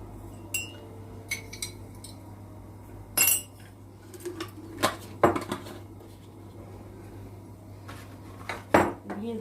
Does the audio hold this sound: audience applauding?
no